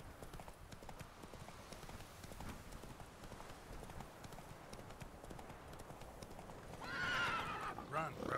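A horse in The Witcher 3 gallops with steady rhythmic hoofbeats, then lets out a loud whinny near the end, over a quiet game background.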